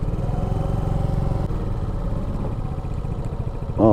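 Suzuki Smash 115R motorcycle engine idling and rolling among many motorcycles near a mall parking area, a steady low mechanical drone throughout, close and continuous, with a brief louder swell at the end.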